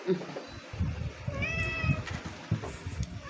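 A cat meows once in a drawn-out, rising-and-falling call, close by, over low background chatter and clatter of cooking.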